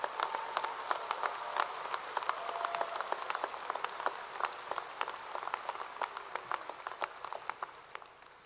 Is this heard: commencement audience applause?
yes